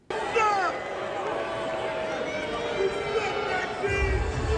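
At a wrestling house show, an arena crowd reacts to wrestler Maxxine Dupri with a sustained, loud wash of jeers and booing babble, continuous throughout with shouting voices mixed in.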